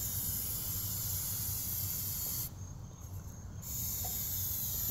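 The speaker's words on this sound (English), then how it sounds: "Even thin layers, about 2 to 3 layers of Scotch guard." Scotchgard fabric protector sprays from an aerosol can onto the seats of a 2016 WRX as a continuous close hiss that briefly eases midway before resuming.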